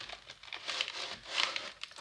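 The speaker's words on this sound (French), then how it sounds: "je suis en train de la déballer là" Plastic and cardboard packaging crinkles and rustles as a Funko Pop figurine is unwrapped, in two short bursts of close crumpling.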